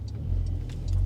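Porsche 911 of the 992 generation with a pronounced factory exhaust, heard as a close, steady low rumble from the car with faint ticks and light crackling over it, no voices.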